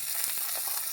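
Fresh live pond shrimp dropped into a hot pan with onion, green chili and ginger-garlic paste, giving a dense, steady sizzle for a brief moment, close and loud with no voices.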